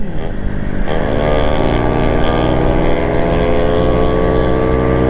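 A Suzuki Raider motorcycle speeds along a cold mountain road at Marilaque, its engine loud and close with a steady, rising drone as it accelerates and holds high revs.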